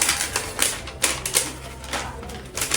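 A sewing machine stitches cargo pocket fabric in quick, rhythmic bursts of needle clatter, each run separated by short pauses, close and moderately loud.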